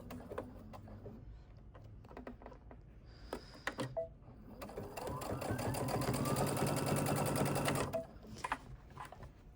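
A sewing machine stitches through quilt layers, first with a few isolated needle taps, then a fast mechanical whir of several seconds, quiet and close, before it stops.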